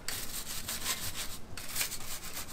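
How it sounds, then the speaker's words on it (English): A microfiber towel wipes a car's brake calipers, giving a close, soft rubbing in quick repeated back-and-forth strokes, faint and without any talk. "we're going to wipe it down with a microfiber towel"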